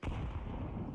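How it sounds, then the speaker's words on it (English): A flashbang grenade going off in a Counter-Strike match, one sharp burst followed by a dense, rumbling decay that fills the short moment, fairly quiet in the game mix with no talk over it. "Flashbang."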